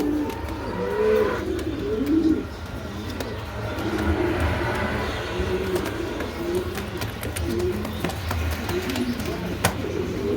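A pair of Madrazi pigeons cooing near the microphone in repeated soft throaty phrases over a low steady background hum, with occasional sharp clicks.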